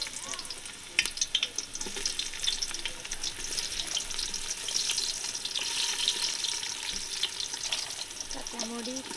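Onions dropped into hot oil in a village cooking pot, a moderate hissing fry with scattered clicks and stirring, a voice briefly heard near the end.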